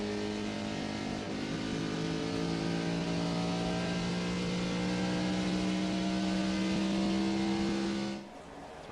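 A NASCAR Busch Series race car that seems to have a problem, running on the oval at Gateway late in the Charter Pipeline 250, gives a steady, loud engine drone with a sustained low tone that cuts off abruptly near the end.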